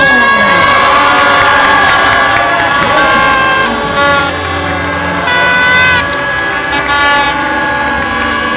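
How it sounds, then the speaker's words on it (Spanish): A crowd at a football tournament awards ceremony cheers loudly and continuously, with shrill shouts and whistles over a dense roar, close and intense. "Un aplauso entonces para el equipo de Cerro Lindo."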